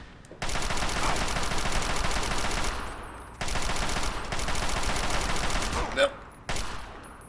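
Enemy automatic gunfire in the video game Fallout 3 rattles in two long sustained bursts, each lasting about three seconds, with a short sharp shot and a brief final burst after them.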